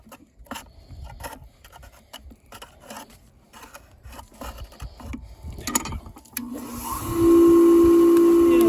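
A Vevor flat lap faceting machine makes close scraping and rubbing noises, then its motor settles into a loud, steady running hum with a faint whine and no talking.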